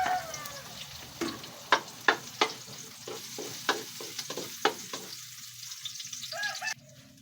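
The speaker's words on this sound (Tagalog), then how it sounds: "Ayan, nagisa na po natin yung sibuyas." Onions sautéing in a pan for vegetable lumpia, a steady sizzle broken by a series of sharp, close stirring scrapes before the frying quiets near the end.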